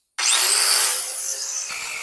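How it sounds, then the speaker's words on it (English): A cutoff wheel slices through a bolt held in a drill press clamp in a garage working on a 1976 BMW 2002, giving a loud, sustained high grinding whine that starts abruptly and then steadies. "I'm gonna try to just use actually a cutoff wheel and cut that whole thing right off"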